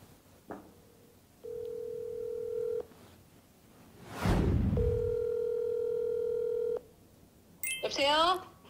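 A phone call to a mother: a short beep, then two long ringback tones separated by a pause, fairly quiet and close, with a burst of voice at the end as someone answers.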